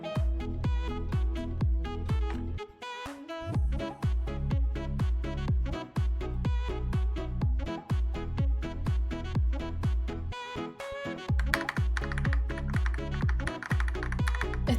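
Fast, steady typing on a GMMK 2 TKL keyboard fitted with Glorious Lynx linear switches, a dense stream of close, crisp keystrokes with a few brief pauses and no talking.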